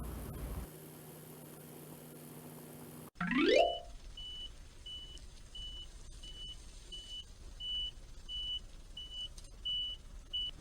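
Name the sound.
dump truck moving over muddy land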